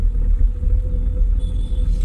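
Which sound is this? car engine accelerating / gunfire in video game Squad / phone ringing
car engine accelerating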